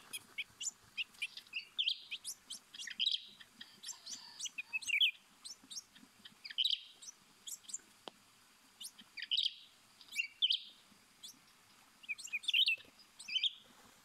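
Wild birds near a bird trap in the forest give bright, quick chirps and short song phrases in scattered bursts, fairly faint against a quiet background.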